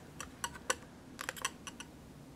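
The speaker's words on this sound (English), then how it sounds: "this edge, I'm going to have to cut a little bit of the cardstock too" Light, quiet snips or slicing clicks of a blade trimming cardstock by hand near a die-cut edge, a few scattered short cuts in a hush.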